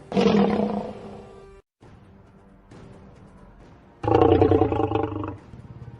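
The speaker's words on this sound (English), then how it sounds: "The lion rushed out and bounded towards its victim." Lion roaring twice, powerful deep bursts with a quieter growling stretch between, close and loud in a retold story of an arena where a caged lion is released.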